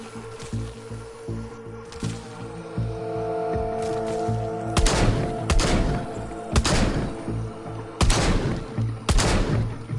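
Gunfire in the VR zombie shooter Arizona Sunshine: several sharp, loud bursts of shots ring out over a steady game background hum, spaced a second or two apart.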